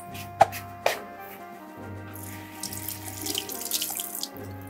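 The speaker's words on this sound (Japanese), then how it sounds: "ネギを洗います。" Green onions are rinsed under a running kitchen tap: two sharp knocks come first, then a steady, close stream of water splashes continuously into the sink.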